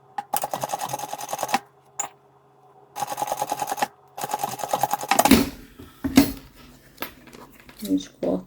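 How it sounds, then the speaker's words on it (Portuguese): Sewing machine topstitching a seam on a thread-holder zip pouch, running in three short rhythmic bursts with pauses, followed by handling clatter and light scissor or fabric noises. "Quando eu rebater a costura."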